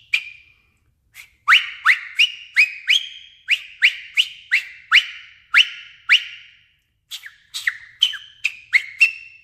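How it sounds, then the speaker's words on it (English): Loud, shrill fingerless mouth whistling by a person, a quick series of about twenty sharp chirps in irregular bursts with short pauses, each note swooping and bird-like. "So I can whistle incredibly loud, and a variety. I can do chirping sounds."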